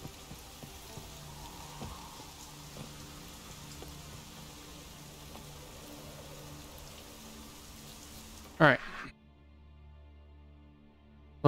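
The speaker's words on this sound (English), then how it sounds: "And it's raining again." Rain patters softly in the Witcher 3 video game on Fyke Isle, a faint steady wash that cuts off abruptly near the end after a brief sharp burst.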